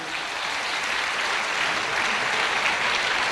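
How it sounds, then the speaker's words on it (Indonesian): An audience applauds at a university talk on youth and politics, a steady, even wash of many hands clapping at once, held at a constant level throughout with no voices over it. "Tepuk tangan untuk"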